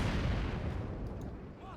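Mortar fire in a Company of Heroes 2 match, a dense low rumble of artillery booms and distant blasts rolling continuously and gradually fading, with faint voice traces near the end.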